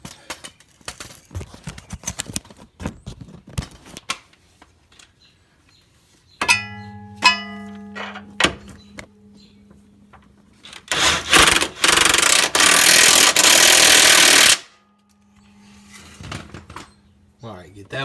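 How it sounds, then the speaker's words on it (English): Bolts on a Ford Escape's front suspension are tightened with hand tools, giving metallic clanks and ratcheting clicks, followed by a loud sustained burst from a power tool lasting several seconds, with someone talking in between. "we'll go ahead and tighten up that bolt back there and this bolt up here on the front here"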